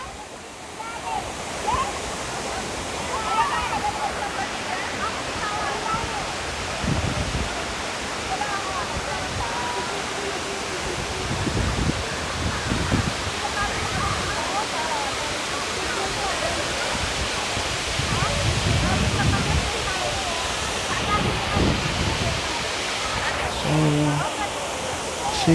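A waterfall with many small falls tumbling over big rocks, a loud, steady close rush of water throughout, with people talking faintly now and then beneath the roar.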